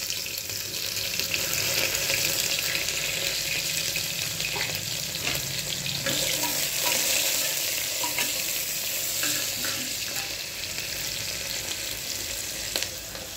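Onions fry in a pot for spicy chicken pulao, a dense, steady crackling sizzle close by with faint stirring clicks scattered throughout and no talking.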